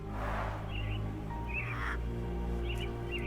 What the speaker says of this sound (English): Minor birds, if I'm not mistaken. Beautiful creatures. How sad that they're caged here.